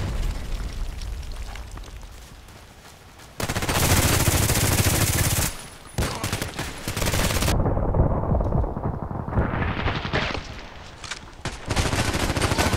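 Gunfire in the Contract Wars shooter game: dense, loud bursts of rapid shots and automatic fire with explosive bangs, broken by short pauses, heard close and continuous.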